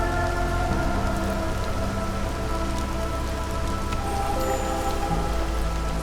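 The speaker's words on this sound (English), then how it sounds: "And we've made it through the storm." Steady, dense storm rain pours without pause in the city-building game Against the Storm, a loud continuous hiss of drops on surfaces with no talk over it.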